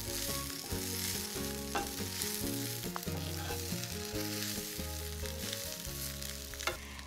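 Arugula wilting in a pan over caramelized onions gives a steady, close sizzle, with soft stirring scrapes and a background of musical tones running under it throughout.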